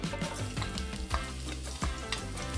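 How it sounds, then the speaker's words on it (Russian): Chopped onions frying in a pan of hot vegetable oil, a dense steady sizzle with crackles and a few soft stirring knocks, close and with no talk. "выкладываем жариться репчатый лук"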